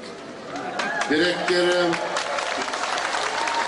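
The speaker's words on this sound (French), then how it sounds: "Applaudissements discrets" Subdued applause from a sparse crowd gathered to hear a king's speech, a soft, steady patter of clapping with voices talking over it throughout.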